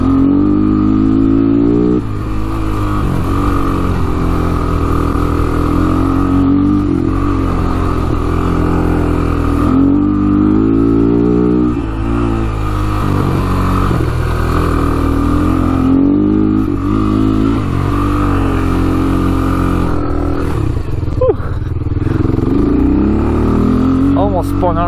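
Honda 300ex ATV engine loud and steady through the whole ride, revving up and down as it speeds along, with a rider talking over it.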